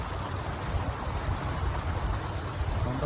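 Stream water near Calgary flows steadily and close, giving a continuous broadband rush with low gurgling and no talk.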